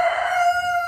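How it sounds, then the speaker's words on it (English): A Cochin rooster crows in one sustained, strained call filling the whole moment, close and loud with a strong tonal line and bright overtones, alone without speech. "Fitz, are you gonna crow for us?"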